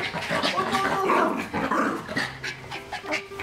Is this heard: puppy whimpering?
yes